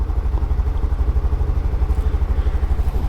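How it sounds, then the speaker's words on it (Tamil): A motorcycle-like engine drones steadily on a rainy early-morning road near Palacode railway station, a low pulsing rumble of a vehicle close behind with no talk. "பின்னாடி வண்டி வருது, தூக்கத்தில் பார்த்து ஓட்டணும்."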